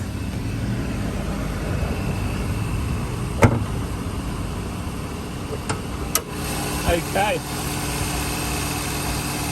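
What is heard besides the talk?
Suzuki Swift car engine idling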